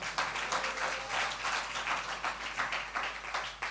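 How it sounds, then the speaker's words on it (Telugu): A church congregation claps in praise during a sermon, a dense, rhythmic burst of many hands that is moderately loud and sustained throughout, with no voices over it. "చప్పట్లు కొడితే యేసయ్యకు స్తోత్రాలు చెప్దాం."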